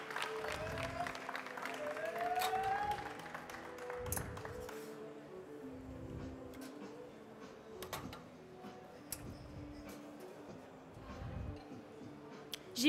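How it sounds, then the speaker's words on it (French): Audience applause during a barista competition final in France, a modest patter of clapping early that thins out, with scattered clinks and taps of cups and equipment and faint background talk. "Des applaudissements, mesdames et messieurs, pour Charlotte Malaval"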